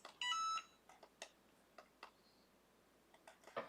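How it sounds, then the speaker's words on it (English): A kitchen-style timer gives a short electronic beep, then a series of faint clicks and taps as it is set to 40 seconds, close and quiet with no voices. "So set the timer for 40 seconds."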